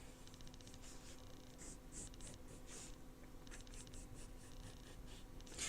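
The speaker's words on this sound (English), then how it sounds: "I'm just going to sketch the outline of the wing." A pencil sketches the outline of a bumblebee wing on paper, a close, quiet series of short scratchy strokes in an irregular rhythm against a faint steady hum.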